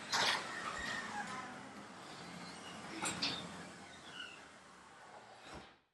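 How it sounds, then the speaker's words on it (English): A garage door closes with a quiet, continuous sliding rumble lasting several seconds, marked by a few soft clunks partway through and a thump near the end as it settles shut. "And now the door is closing."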